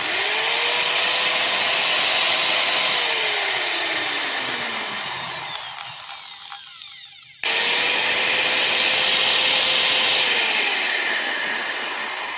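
Lotus impact hammer drill with a US plug running at full speed, a loud steady whine with a falling pitch sweep as it slows, a brief near-stop, then a sharp restart to full speed.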